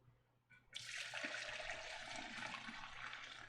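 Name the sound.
stock pouring into fat separator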